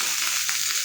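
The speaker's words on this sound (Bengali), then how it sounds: "এইভাবেই ভাজবো আলুটা" Potatoes frying gently in a pan give a brief, even, hissing sizzle at close range, heard alone.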